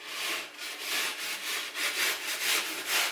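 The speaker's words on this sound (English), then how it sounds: "Now drywall rasps come in a million different sizes and flavors and brands and colors and shapes and all that." A small, cheap handheld drywall rasp scrapes along a drywall edge in repeated rhythmic strokes, a close, dry rasping about twice a second with no talking.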